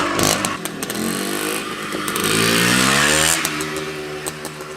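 A 1973 CZ 250 motocross motorcycle's two-stroke engine screams at high revs during a wheelie, loud and close, its pitch sweeping up and down continuously as the throttle is worked.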